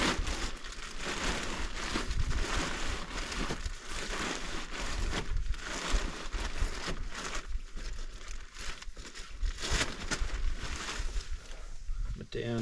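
Sleeping bag stuffed into a plastic bag, with repeated crinkling and rustling of plastic and fabric being pushed down, close up and fairly quiet throughout.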